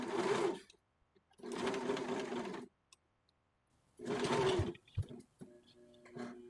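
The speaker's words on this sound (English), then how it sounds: "I serge all the way around the outer edge of my facing." A serger overlocks around the outer edge of a doll dress facing, running in three loud buzzing bursts of about a second each with quiet pauses between, followed by small clicks and handling noises.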